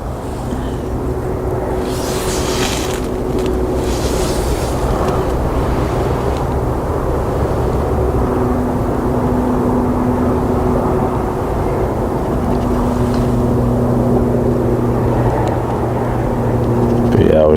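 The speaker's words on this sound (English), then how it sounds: "Reverse thrust on" A jet airliner lands at Leeds Bradford Airport with reverse thrust engaged, giving a steady loud roar and hum that holds for the whole stretch. Someone talks over the engine noise.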